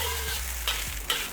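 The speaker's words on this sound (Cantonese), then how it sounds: "我哋炒呢個飯個目標就係想嗰啲飯咧乾身，同埋最好咧就係一粒粒㗎" Rice stir-frying in a wok, cooked until dry and separate for Hong Kong-style baked seafood rice with bechamel sauce: a steady close sizzle runs throughout, broken by two sharp spatula scrapes against the wok, with no talking.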